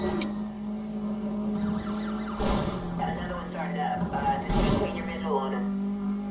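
Police siren and car engine in the Need for Speed World racing game, a wailing tone under a steady engine drone with two sharp crash bursts, while someone talks throughout.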